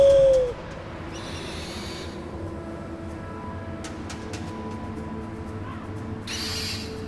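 An owl in the video game Far Cry Primal hoots in a few soft, low calls over a steady ambient wilderness bed, moderately near, with short faint rustling bursts and no talking.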